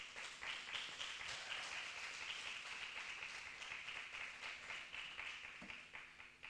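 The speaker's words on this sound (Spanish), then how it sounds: "Denle un aplauso al Señor, por favor." A church congregation applauding in a steady, faint wash of many hands clapping, sustained evenly from start to finish.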